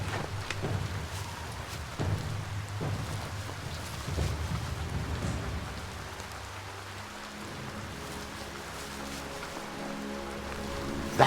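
Rain and rolling thunder in the Biomutant video game: a steady, faint wash of rainfall under deep, low rumbles that swell and fade.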